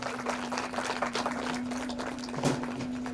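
An audience claps together at a school reunion event. The applause is steady and moderately loud throughout, with a low constant hum underneath.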